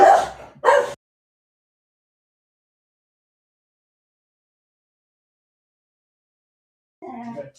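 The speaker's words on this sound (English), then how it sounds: "We are having a dog that we are looking after for the moment. And he loves to bark" A dog being looked after indoors barks twice in quick succession, then a long silence before a fainter bark at the end.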